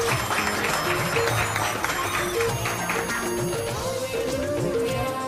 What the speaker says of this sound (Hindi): तो सांता क्लॉज के लिए भी जरा जोरदार तालियां सांता क्लॉज के लिए।